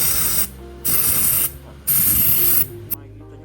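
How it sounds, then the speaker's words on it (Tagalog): Cleaner sprayed onto a motorcycle front shock on a Mio Sporty scooter, three long hissing bursts close to the mic with short pauses between, ending in a quick final puff, no talk. "Spray lang natin."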